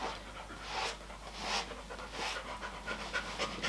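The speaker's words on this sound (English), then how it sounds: "she's panting quite a lot" A dog pants rapidly and steadily close by, quick breathy huffs repeating throughout with no voices.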